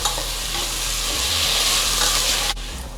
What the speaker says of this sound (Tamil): இப்போ எல்லாத்தையும் சேர்த்து நல்லா வதக்கி விட்டுக்கலாம்